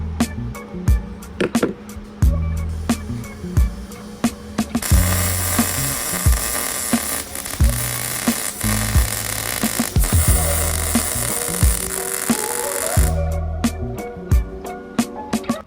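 Welding a shifter carrier and extended selector rod on a BMW 2002 five-speed conversion: a long crackling, hissing weld bead sits between sharp metallic clanks and knocks of tools, fairly close and loud, with no voices.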